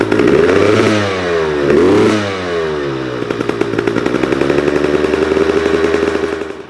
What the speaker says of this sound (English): We'll rev it and see what it gets to.